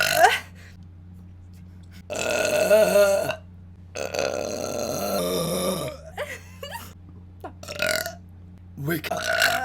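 A series of loud, drawn-out burps from a young woman, several separate belches spaced across the clip with short silent gaps between them, some long and groaning, close and prominent.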